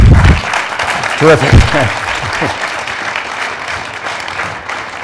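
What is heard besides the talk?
audience applause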